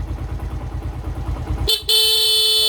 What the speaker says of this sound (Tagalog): Yan, tapos busina.